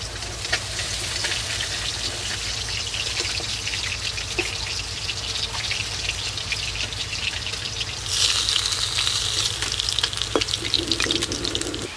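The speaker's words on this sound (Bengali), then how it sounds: "মাছ ভাজার তেলের মধ্যে কয়েকটা কাঁচা লঙ্কা ভেজে নিচ্ছি।" Green chilies fry in leftover fish-frying oil over a village cooking fire, a steady, continuous sizzle and crackle that grows a little louder and brighter toward the end.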